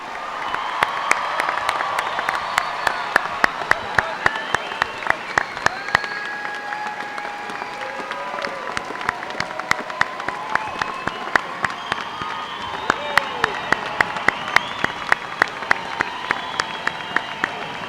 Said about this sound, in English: How about another round of applause for the class of 2018?